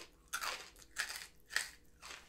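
A crunchy rice, wheat and sugar wafer snack with a sweet cinnamon scent is bitten about four times, each bite a sharp, dry, close crackling crunch in a quiet room.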